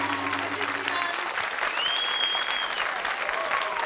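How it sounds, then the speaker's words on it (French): Steady, full applause from a TV studio audience on the French talent show C'est mon choix, continuous clapping throughout with a faint tone layered briefly over it. "Et encore applaudissements pour l'émission de C'est mon choix"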